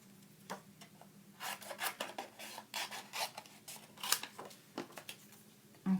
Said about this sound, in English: so just cut that down like that